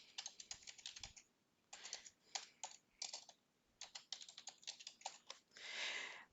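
Someone types a title on a computer keyboard in short bursts of crisp, close key clicks separated by brief pauses, ending in a quick rapid flurry.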